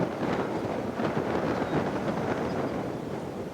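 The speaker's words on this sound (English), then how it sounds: "on the main lake, the wind is really whipping. I can hear it. And even up here in the bog, it's still quite breezy." Strong wind gusts over a Maine bog, a continuous rushing roar buffeting the microphone with slight swells in strength, loud and close with no other sounds.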